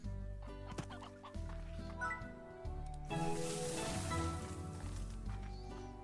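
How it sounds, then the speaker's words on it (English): Chickens cluck and gobble close by in a slime farming video game, a busy stream of bird calls over a droning musical background. "There's a lot of chickens over here"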